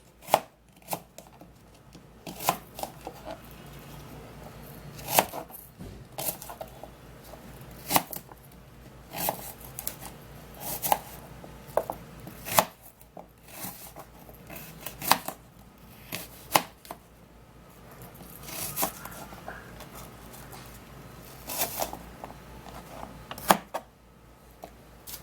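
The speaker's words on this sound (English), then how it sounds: "and then you cut your apple into" A knife chops an apple into cubes on a cutting board, with steady irregular taps and sharp clacks going on for a long stretch, close and clear with no talk.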